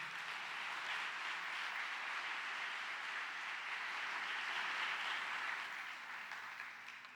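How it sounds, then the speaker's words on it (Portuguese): A church congregation applauds, sustained even clapping from a large crowd that carries on steadily and fades slightly at the end. "Dá um aplauso ao Senhor"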